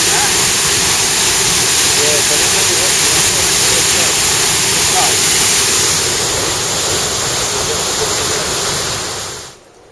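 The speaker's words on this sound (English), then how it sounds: "We had a welcome rest when we finally reached the refreshing waterfall." A waterfall in a forest reserve near Cusco, heard as a loud, close, unbroken roar of falling water that fades out abruptly at the end.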